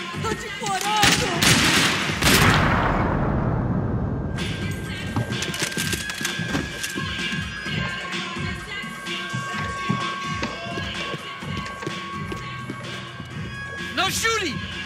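Gunfire in the shooter game Max Payne 3, with dense rapid shots and splintering impacts mixed with cinematic music, while people speak throughout.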